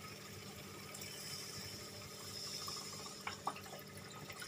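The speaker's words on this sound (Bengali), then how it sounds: "এবার জল দিয়ে দেব।" Water poured into a spiced masala mix in a cooking pan for dhokar dalna, a faint continuous splashing pour with a few clinks of utensils toward the end.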